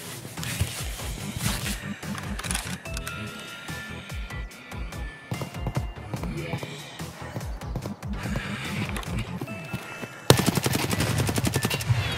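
Escape from Tarkov gunfire: bursts of automatic rifle fire and sharp single shots rattle loudly and close, ending in a dense sustained volley.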